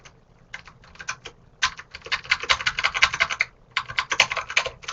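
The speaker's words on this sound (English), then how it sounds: "Okay, so I'll type it down." A computer keyboard is typed on at close range in quick bursts of crisp key clicks with short pauses between, the rhythm uneven and fairly loud.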